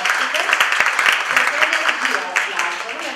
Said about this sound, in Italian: Intanto farei un bel applauso